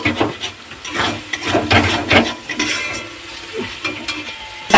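Chicken being stir-fried with spices in oil for Bengali chicken kosha, with a spatula scraping and stirring the pan in irregular strokes over a soft, steady sizzle.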